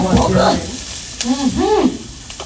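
Steady hissing sizzle of food frying in a pan, with a person speaking over it close by.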